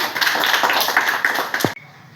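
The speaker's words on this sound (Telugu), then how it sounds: "very good claps కొట్టనమ్మా" A group of schoolchildren clap their hands together in a classroom, a dense burst of many overlapping claps that stops abruptly, leaving a quiet room.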